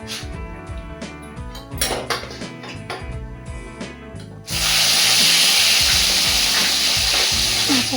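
Rohu fish is fried in a pan for a home-style curry: first a stretch of clattering pan and utensil knocks, then a loud, steady sizzle of hot oil that takes over close by, with no voices.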